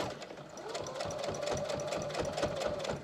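Sewing machine stitching along a fabric fringe trim on a garment, a steady rapid needle chatter running close and even for the whole stretch, with no talking over it.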